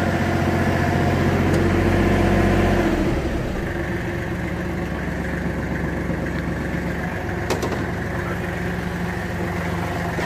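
A Kubota GL23 Japanese mini tractor with a loader sits with its engine idling, then gets throttle and revs up briefly before settling into a steady, slightly rough idle hum, close and continuous with no talk.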